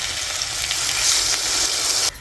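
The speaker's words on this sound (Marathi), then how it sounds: "थोडंसं पाणी टाकीते" Water poured into a hot kadai of frying potatoes sets off a steady bright hissing sizzle that holds for about two seconds before dropping off suddenly, with no talk.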